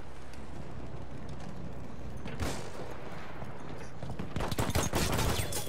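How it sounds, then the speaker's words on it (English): Machine gun fire in Battlefield 1, a dense rattle of rapid shots that swells near the end, with a sharp crack midway over a constant battlefield din. "Enemy machine gun over there."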